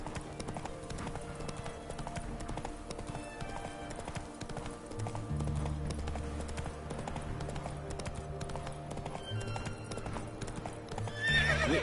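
A horse galloping in the Witcher 3 video game: rapid continuous hoofbeats run throughout over a music bed, with a whinny near the end as the ride continues.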